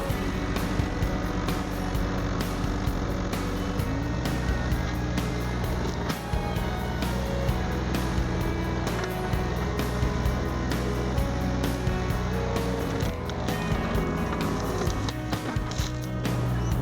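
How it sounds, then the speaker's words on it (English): A skid steer pulls out a blackberry bush with a chain, its engine droning steadily up close, with clattering, rustling and scraping throughout. "pull it backwards with the skid steer and yank it out of there"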